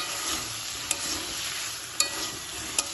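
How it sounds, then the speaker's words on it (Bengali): Bottle gourd stir-fried in a pan with cumin, black pepper and coriander powder: a steady, close sizzle broken by three sharp clicks of the spoon scraping the pan, with no voices. "সব কিছু মশলার সাথে আবার ভালোভাবে কষিয়ে দেবো।"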